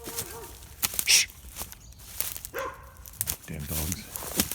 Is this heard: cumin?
no